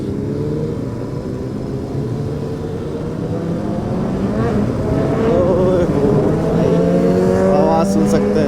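A touring motorcycle engine runs steadily close by, its harmonic drone rising and growing slightly louder toward the end, with faint voices underneath.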